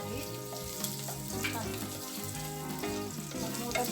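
Garlic sizzles steadily in a hot pan while tinolang manok is being cooked at home, a soft, even crackle with no voices over it.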